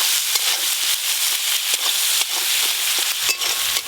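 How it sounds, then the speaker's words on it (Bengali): Crabs seasoned with salt and turmeric frying in a pan of hot oil, giving a loud, steady, crackling sizzle with small pops throughout, close up and with no voices. "ওই একই তেলে কাঁকড়াগুলোও ভেজে নেব"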